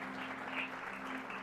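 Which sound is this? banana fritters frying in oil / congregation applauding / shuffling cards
congregation applauding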